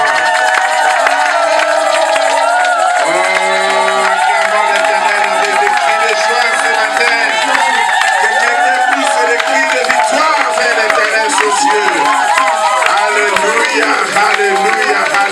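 A church congregation at a Sunday worship service cheers and shouts in acclamation. Many voices make a loud, dense and unbroken roar of joyful crowd noise that fills the whole clip.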